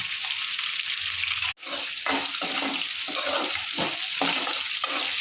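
Sliced onions with salt, three green chillies and a bunch of curry leaves frying in a pan for fish gravy give a loud, steady, close sizzle that cuts out for a moment, then surges back with soft stirring scrapes.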